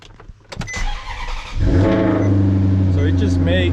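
A 2014 Maserati GranTurismo engine fires up after a few clicks and thumps, catching at about halfway into a loud, steady idle rumble that holds close and strong to the end.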